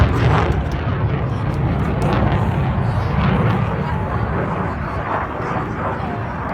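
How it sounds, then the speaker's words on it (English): SAAB Gripen fighter jet on a high-speed run at about 450 knots during an air force show, a loud, continuous rushing roar, with a commentator speaking over it. "bringing the aircraft down, speed run about 450 knots at this stage, just under 800 kilometers per hour"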